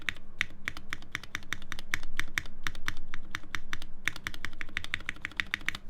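Keys clack in quick, uneven bursts on a newly built 7V mechanical keyboard, close and clear, with steady typing and no talking.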